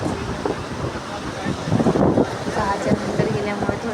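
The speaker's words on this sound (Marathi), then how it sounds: "बघा, समुद्र सुंदर दिसत आहे." Ocean waves at Golden Beach in Achara, heard at dusk as a broad, continuous wash of surf mixed with wind noise across the microphone, with a swelling surge partway through and a voice speaking over it.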